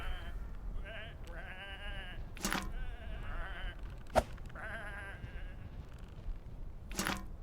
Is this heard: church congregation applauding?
no